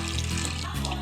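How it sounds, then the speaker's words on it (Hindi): Water poured from a glass into a pot of cooking dal mixed with bottle gourd curry, a brief steady splashing pour heard close up with no talking. "थोड़ा सा पानी डाल देंगे इसमें"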